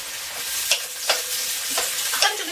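Frozen mixed vegetables sizzle steadily in a hot pan, with several scraping stirs and tosses breaking through the constant frying hiss at close range.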